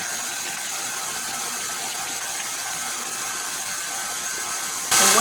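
Cupcake batter with two eggs being mixed, apparently by an electric mixer: a steady, whirring, hissy mechanical drone heard close and evenly throughout, which swells into a louder, brighter burst in the final moment.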